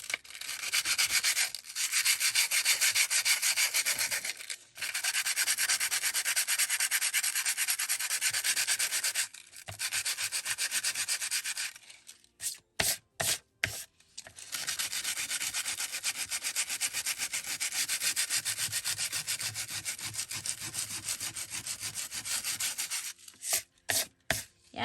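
Sandpaper rubs over a junk mail craft in long, loud, continuous scratchy strokes close up, broken by short pauses and a few quick choppy passes.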